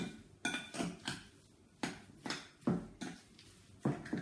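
Spinach and ricotta filling being mixed in a bowl for pinwheel scrolls: a spoon knocks and scrapes against the bowl in uneven bursts, roughly eight or nine distinct clatters over a few seconds, close and fairly quiet.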